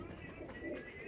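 Breeder pigeon, a sire of a Punjab champion, cooing softly in a low, murmuring rumble over a steady background hiss, faint and close with no talking.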